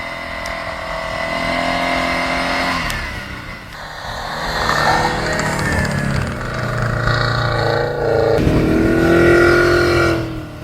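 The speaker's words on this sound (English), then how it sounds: "If you ever doubted Subaru all-wheel drive, just watch it reverse, push forward, and repeat until the path is clear." A Subaru all-wheel-drive car reverses and pushes forward through snow on a rough road, its engine droning and rising in revs over and over in a steady, fairly close stream of sound.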